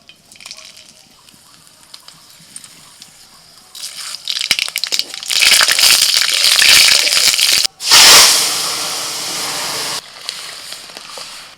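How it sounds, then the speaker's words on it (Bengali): Whole dry red chillies, bay leaf and black mustard seeds hit hot oil for tempering dal, bursting into a loud, broad sizzle with sharp crackling that swells midway, briefly cuts out, then surges again and settles. "ডালটা সাঁতলাবো, শুকনো লঙ্কা, তেজপাতা আর কালো সর্ষে।"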